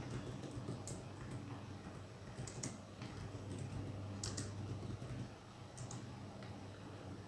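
A command is typed on a computer keyboard in Kali Linux, with sparse clicks and short clusters of keystrokes at close range over a faint room hum, and no voices.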